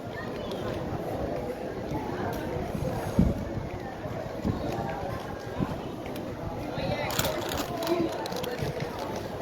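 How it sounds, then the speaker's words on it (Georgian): Strong wind buffets outdoors during a Burger King mukbang, a constant rushing roar with gusty bursts over the microphone while people talk. "ისეთი ქარია, რამის არ წაგვიღოს."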